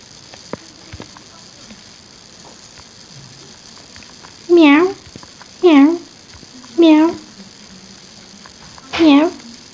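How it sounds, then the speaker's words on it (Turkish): Four cartoonish cat meows from a video game, evenly spaced over a few seconds, loud and clear above a faint steady background hum. "Miyav diyen kediler."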